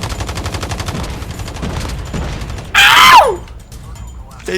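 A War Machine grenade launcher in Call of Duty Mobile fires explosive blasts in a rapid series, followed by a sharp shattering crack, with a voice speaking faintly in the background.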